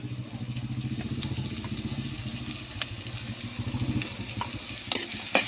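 Green chilli and salt sauté in a pan for a hammour fish curry, a soft steady sizzle with rhythmic stirring scrapes and occasional clinks of the spoon, close up and without talk.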